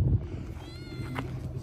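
A small black cat outdoors lets out a faint, drawn-out meow midway, low under a noisy background rumble.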